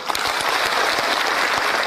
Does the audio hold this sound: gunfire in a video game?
no